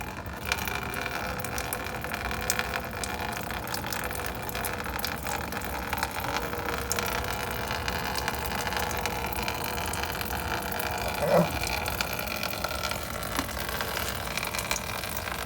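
Pink car coolant drains from a radiator, a steady continuous trickling gush of liquid, fairly close and even throughout, with no talk.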